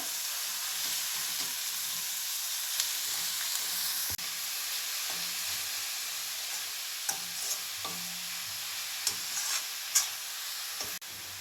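Cowpea vegetable stirred in a hot pan, a steady close sizzle and hiss of frying throughout with occasional soft scrapes and taps of the spoon.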